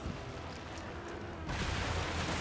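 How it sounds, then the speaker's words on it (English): Light bowgun spread ammo explodes in a Monster Hunter game as a dense, continuous crackling roar that grows louder and fuller halfway through. "I can't see what's happening because of the explosion"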